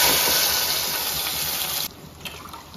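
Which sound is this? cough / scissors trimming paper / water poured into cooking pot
water poured into cooking pot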